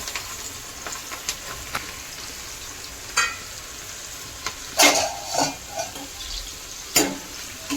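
Onions fry in hot oil tempered with mustard seeds, cumin and asafoetida for a Kathiyawadi brinjal bharta, making a soft continuous sizzle over low heat. Intermittent spatula scrapes and clinks sound close by, with no talking.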